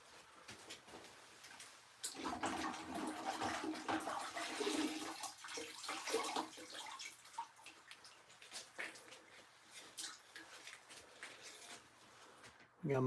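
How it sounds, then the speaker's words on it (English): Garden blocks dunked and rinsed in water to wash out trapped crud, with steady splashing and sloshing that runs through the clip, close and moderately loud. "So we wanna drop this in water and rinse that."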